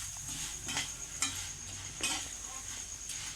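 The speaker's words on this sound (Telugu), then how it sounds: "ఎర్రగా వచ్చేదాకా మనం వీటిని కలుపుతూ ఉండాలి, ఫ్రై చేస్తూ ఉండాలి" Ingredients fry in oil in a pan on medium heat, a soft steady sizzle under a few close scraping strokes of a spoon stirring at intervals.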